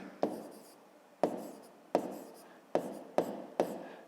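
Handwriting on paper during a fifth-grade maths exercise, six sharp pen taps each followed by a short scratching stroke, close and evenly spaced, with no talking.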